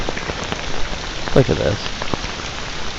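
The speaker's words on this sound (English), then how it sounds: "Crazy rain." Heavy rain pours onto a US military poncho, a dense steady patter with a few sharper drops, while someone briefly speaks up close over it.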